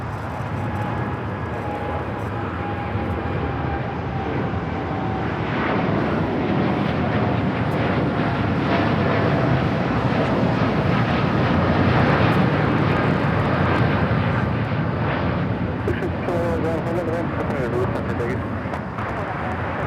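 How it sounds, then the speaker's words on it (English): A United Dreamliner airliner takes off from the south runway at Los Angeles airport, a broad, steady jet roar that builds and holds for the whole stretch, with voices talking underneath. "United Dreamliner taking off here on the south."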